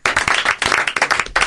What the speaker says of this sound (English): A round of applause for all of you and revealing your secrets and embarrassing moments.